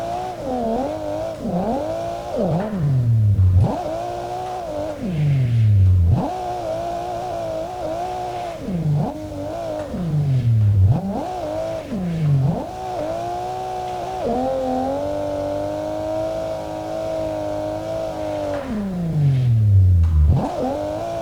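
A virtual Nissan S15 drifts around the Monaco street circuit in a racing game, its engine repeatedly revving high, then dropping sharply between corners in a steady cycle of loud, close, continuous engine howl with no talking.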